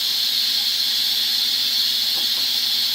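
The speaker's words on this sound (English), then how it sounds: "But the steam is really hot." Steam vents from an Instant Pot pressure cooker in a loud, continuous high hiss that holds steady without a break, close by, with no voices over it.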